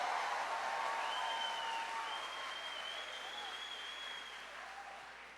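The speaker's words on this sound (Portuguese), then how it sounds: "Pode aplaudir, pode aplaudir, pode aplaudir. Aplaude de verdade, aplaude dando glória." Steady applause fills a church service, the clapping dense and even. It fades gradually over a few seconds, with a faint voice ringing above it.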